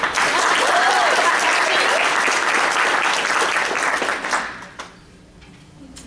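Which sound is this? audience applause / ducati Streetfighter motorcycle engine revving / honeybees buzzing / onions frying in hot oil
audience applause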